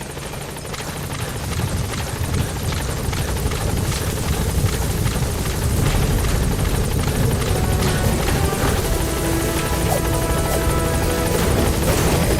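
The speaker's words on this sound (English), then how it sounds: "helicopter has arrived" A helicopter arrives in the video game Metal Gear Solid V: The Phantom Pain, its loud, steady rotor thrum and engine whine filling the whole stretch without a break and with no talking.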